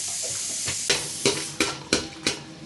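Whole spices for soya biryani, namely bay leaves, cinnamon, cloves, cardamom and mace, go into a hot pan of oil. A steady close sizzle carries a run of sharp, evenly spaced ticks and pops as the spices hit the pan.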